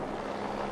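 Helicopter hovering over a desert Dakar Rally motorbike stage, a steady broadband rotor and engine roar without pause.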